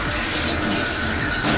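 Water splashing steadily, with churning and slapping as an animal claws and thrashes at the surface, close by and continuous.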